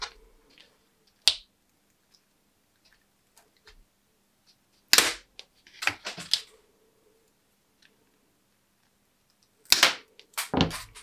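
Wooden barbecue skewers being cut by hand while making cardboard dollhouse furniture: a few sharp, isolated snaps and clicks spaced apart in an otherwise quiet room, with a quick double cut near the end.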